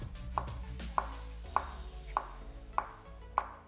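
A knife slices food into very thin slices on a board, likely for topping toast in a quick vegan breakfast. Six crisp, evenly spaced taps land about every half second, close and clear.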